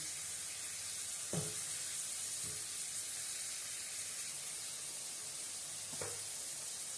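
Minced meat cooks in a pan, giving a steady soft sizzle and hiss, with a few faint scrape or tap sounds from a utensil.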